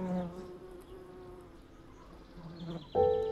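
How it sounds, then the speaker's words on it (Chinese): Bees buzzing around a large hornet nest in a tree in a mountain village, a faint steady drone in the background with brief talk at the end. "哪里来的蜜蜂啊？"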